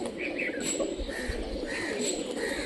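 A Rajshahi Giribaj pigeon coos softly in low, rolling notes, with light chirps and faint wing sounds mixed into the close, steady background.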